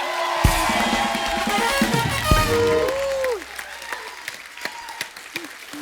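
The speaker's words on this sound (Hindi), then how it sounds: "जोरदार तालियां हो जाए एक बार।" A studio audience on a Kapil Sharma comedy talk show breaks into loud, dense applause with voices over it, then thins to scattered individual claps after about three seconds.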